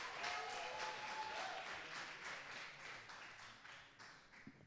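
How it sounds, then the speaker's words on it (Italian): Applause from a studio audience at a televised school quiz contest, a faint but steady patter of clapping lasting several seconds and gradually fading. "Un applauso ci sta."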